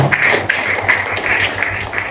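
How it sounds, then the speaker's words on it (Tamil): Congregation at a Sunday church service clapping hands together in a steady, rhythmic beat, dense and continuous for a couple of seconds, with no voices over it. "நல்ல கைத்தட்டி ஆண்டவர் மகிமைப்படுத்த பார்க்கலாம்."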